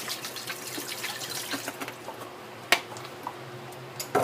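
Water poured into the bottom of a turbo broiler to make steam while cooking chicken inasal, a soft steady trickling splash with a couple of sharp clinks of a container near the end.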